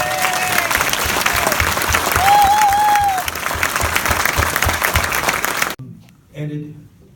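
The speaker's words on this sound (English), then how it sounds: "he deserves a big round of applause" An audience at a Breakfast with Bernie event applauds Senator Bernie Sanders, dense sustained clapping with a few whistles for nearly six seconds before it cuts off and a voice starts speaking.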